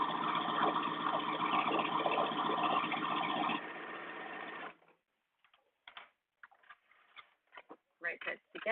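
A sewing machine stitches a band onto a duster coat, running in a steady fast whir for about four seconds before stopping, followed by quiet fabric handling and faint clicks.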